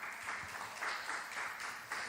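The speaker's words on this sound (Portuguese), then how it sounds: "Uma salva de palmas" A church congregation claps together for a short stretch, a fairly soft, even wash of many hands with a few louder swells, heard from a distance.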